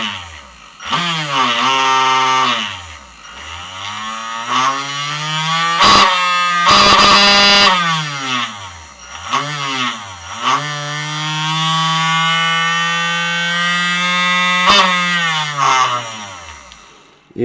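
A Keshe plasma reactor device spins at high speed, a loud buzzing whine that repeatedly sweeps up and down in pitch as it speeds up and slows, with a burst of harsh noise partway through and no talking.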